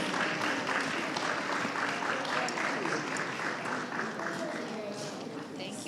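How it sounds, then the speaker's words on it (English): Applause from the audience at an elders and youth conference as guests are welcomed to the stage, a dense sustained clapping from a sizable crowd that gradually thins toward the end, with faint voices mixed in. "give them a round of applause"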